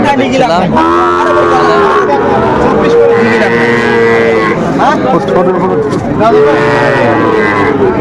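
Loud mooing and bellowing from a young bull calf at a cattle market, several long calls in a row close by, over constant background chatter and noise.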